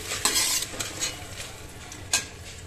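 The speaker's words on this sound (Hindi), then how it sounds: "अभी हम इसमें डाल रहे हैं टमाटर का पेस्ट, थोड़ा सा भून लेंगे इसको अच्छे से" Tomato paste frying with onions in a pan, a steady sizzle broken by several sharp scrapes and clinks of a spoon stirring against the metal, close and fairly loud with no talking.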